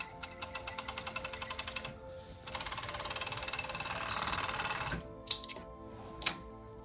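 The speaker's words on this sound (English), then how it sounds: "now we are at the serger and I can just run this through the serger really quickly" A serger sewing machine stitches quickly through fabric with a fast, steady mechanical whir and chatter for several seconds, then the motor stops and a few clicks and clunks follow.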